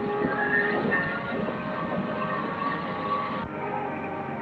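A 1940s railroad freight train rolls along the tracks in a rail yard, a steady, loud rumble with wheel noise and squealing tones that drops abruptly in level near the end.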